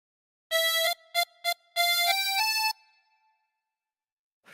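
A tremolo harmonica plays a short nursery-tune phrase from Hey Diddle Diddle, with a few clipped notes followed by a held, stepping run of bright reedy tones that fades out, close and unaccompanied.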